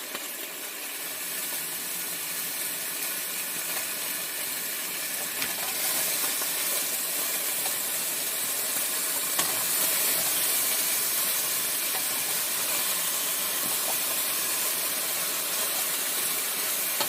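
Chunks of beef brown in a hot pan for a red braised beef stew, giving a steady, even sizzling hiss that runs unbroken throughout with no talking.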